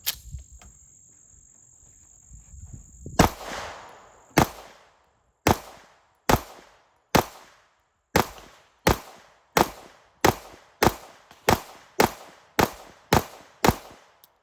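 A V6 ported Platypus air rifle fires about a dozen sharp, close shots at a steady rhythm, each a crisp crack with a quick decay, after a quiet lead-in with a faint steady tone.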